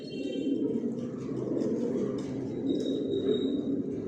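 Racing pigeons of the Janssen line coo in a breeding loft, a dense, continuous low murmur of overlapping coos, close and steady, with faint higher chirps on top and no talking.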